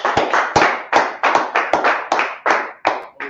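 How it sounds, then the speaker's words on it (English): A class claps together in a steady rhythm, with about ten sharp, crisp unison claps spaced evenly and close by, each ringing briefly before the next. "clap it up for the class"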